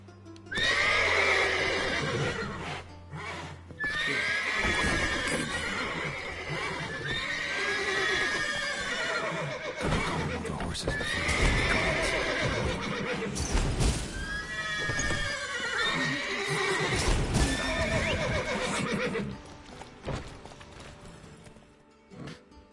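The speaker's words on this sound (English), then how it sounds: "crazy bloody horses" Horses in a fantasy video game neigh and whinny repeatedly in loud, shrill bursts with hooves clip-clopping between calls, several outbursts over about twenty seconds and then fading out at the end.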